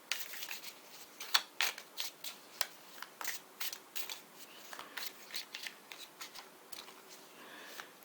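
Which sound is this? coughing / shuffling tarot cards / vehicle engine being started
shuffling tarot cards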